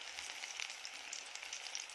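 Shrimp fritters made with bran fry on a low gas flame, giving a soft, continuous sizzle with small crackling pops while the fritters are pressed down in the pan.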